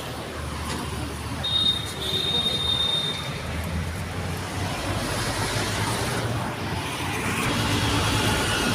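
A train rumbles past near a suburban Mumbai railway station with a steady clatter of wheels on rails, a brief high squeal early on and continuous rolling noise close by, heard without talk.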